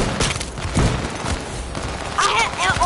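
Gunfire bursts in a multiplayer shooter played with friends, rapid fusillade shots crackling loudly across the short stretch, with players' voices talking over the action.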